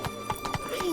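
Roach, a horse in The Witcher 3, trots with steady clip-clop hoofbeats and gives a whinny toward the end. It sounds close and moderately loud.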